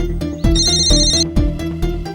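Mobile phone ringtone going off loudly and close, a repeating electronic melody with rhythmic pulses, no voices.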